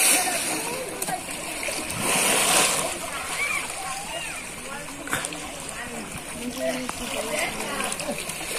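An elephant bathes alone in shallow water at the traditional Surjomoni fair in Banaripara, Barishal, splashing and sloshing in uneven bursts. Someone talks continuously over the water sounds.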